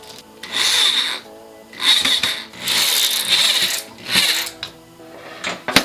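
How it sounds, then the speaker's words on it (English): A clamp is being screwed tight onto a hinge for a jumping mechanism prop, giving several bursts of loud mechanical grinding and whirring separated by short pauses, close by with no talking. "Now I've got a clamp, so I'm gonna clamp it right here. It's a loud clamp."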